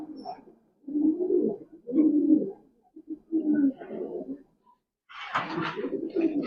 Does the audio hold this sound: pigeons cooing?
yes